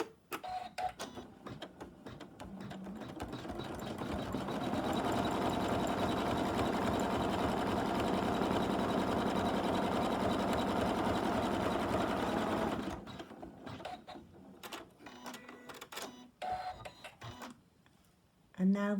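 An in-the-hoop embroidery machine stitches a tissue case in a steady, loud mechanical buzz lasting several seconds, with quieter handling sounds before and after.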